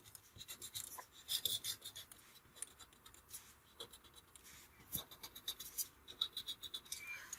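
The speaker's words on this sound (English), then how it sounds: "So I'll erase my extraneous lines." Pencil lines being erased with an eraser on model construction material, giving a soft, intermittent rubbing scratch in short quick strokes, close up and quiet, with no talking.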